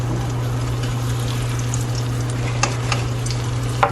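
A tortilla fries in a pan with a steady, close sizzle and bubbling oil, a low hum underneath and a few soft pops near the end.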